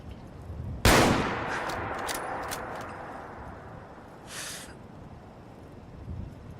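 Rifle gunshots in Fallout 4 during a survival-mode hunting expedition near Vault 111: one loud, sharp crack opens, followed by a few fainter distant reports and a brief burst of noise later, all over steady outdoor ambience with no talking.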